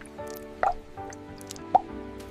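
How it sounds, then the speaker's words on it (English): Water droplets drip and bead on a coated, cured woven bamboo shoe upper in a bamboo footwear factory, with two distinct close drips standing out over a low background hum. "Water bead tests verify that the cured bamboo upper repels moisture completely."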